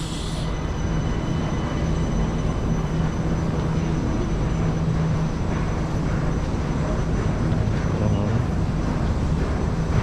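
An MRT train on the Kajang line pulls into a Kuala Lumpur station platform, a steady loud low rumble with a faint hum, continuous for the whole stretch with no talking.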